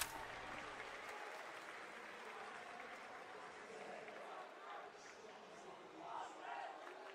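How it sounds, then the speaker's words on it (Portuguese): Esports crowd at a CS:GO Major Paris 2023 playoff match, a steady distant roar of cheering and clapping with swells of shouting, under faint commentary. "E a torcida, né?"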